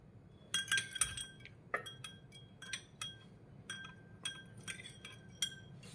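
A spoon stirring lemon juice in a glass clinks repeatedly against the sides in a steady, close rhythm of bright, ringing taps, with no one speaking.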